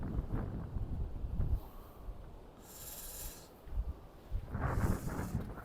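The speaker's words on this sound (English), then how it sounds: "It's getting a lot colder and a lot windier than earlier now." Wind gusting against a seaside harbour wall while fishing at Llandudno, rushing blustery noise buffeting the microphone in surges, loud and close, with no talking.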